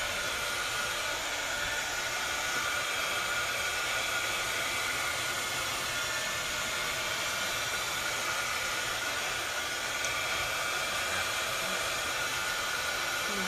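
A handheld dryer blows over a mixed media paper layout, a continuous steady airy whoosh held at even volume throughout with no speech.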